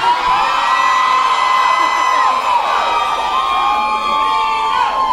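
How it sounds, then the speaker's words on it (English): A large crowd screams and cheers continuously, loud and close, with whoops and high shouts rising over a dense roar of voices. "The louder we scream for Tony"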